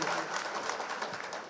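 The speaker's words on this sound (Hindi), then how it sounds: "जोरदार तालियां मेरी बहनों के लिए" A political rally crowd claps steadily for the women being honoured, a dense, even patter of many hands heard from a distance and fairly faint, with no voices over it.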